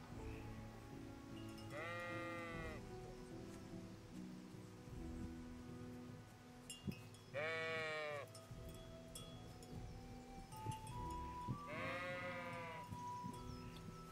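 Sheep in the video game Kingdom Come: Deliverance bleating three times at spaced intervals, each cry clear against a faint rustling outdoor background, with no talk.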